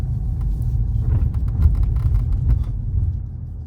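A Volkswagen Jetta pulls away on its first drive, a deep low engine and road rumble heard from inside the car, steady and loud with slight swells, no voices.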